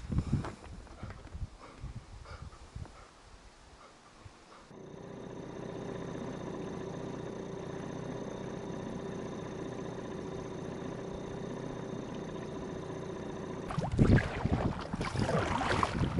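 An outboard motor on a small boat drones steadily at a moderate distance for about nine seconds, then cuts out abruptly. Wind and water noise fill the stretches before and after.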